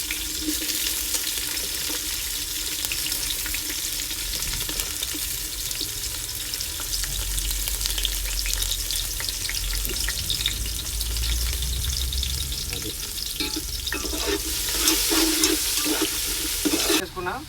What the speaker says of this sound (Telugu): తర్వాత ఉల్లిపాయ వేసుకోవాలి